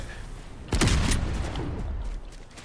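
Gunfire in Fortnite erupts in a quick cluster of loud, close shots, then trails off into a fading rumble and faint residual noise.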